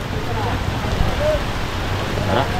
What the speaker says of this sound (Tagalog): lumalakas na ng ulan